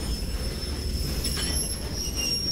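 A train rolls along in the Western video game GUN, with steady loud rumble and rail noise and high metallic wheel squeals running through it, and no talk.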